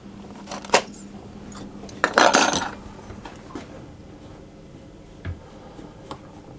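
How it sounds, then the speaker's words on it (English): Lemon zest being stirred through cake mixture in a bowl, heard as a few scattered utensil clinks and scrapes against the bowl, with one louder scraping burst midway and faint taps afterward; no talking. "And then I'm just going to stir that through."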